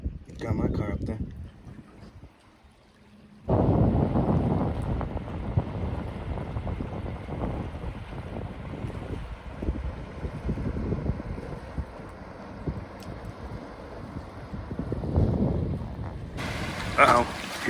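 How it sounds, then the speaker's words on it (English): A pontoon boat passes on a windy lake. A low, rumbling motor and water wash run under heavy wind buffeting the microphone, with a person talking now and then. "Here comes the pontoon boat."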